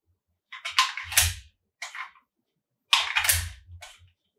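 Empty magazines from a CZ 75 P01 Compact pistol dropping free and clattering onto a surface, two separate bursts of short metallic knocks and rattles, close and fairly quiet with gaps between.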